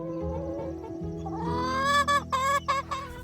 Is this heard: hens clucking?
yes